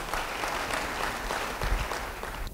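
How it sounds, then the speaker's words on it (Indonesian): A church congregation applauds during a sermon, a dense, steady patter of clapping from many hands at moderate distance, fading at the end. "Yang percaya beri tepuk tangan bagi dia."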